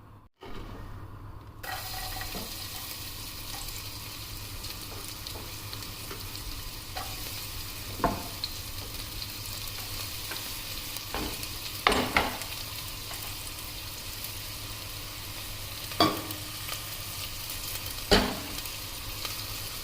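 Onion frying in hot oil, a steady soft sizzle throughout with occasional sharper crackles and pops, fairly quiet and close, no voices.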